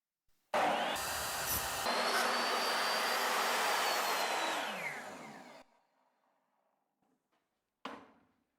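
A workshop dust collector in a small DIY shop starts up with a loud, broad roaring rush, holds steady for several seconds, then spins down and fades, followed by a short knock near the end.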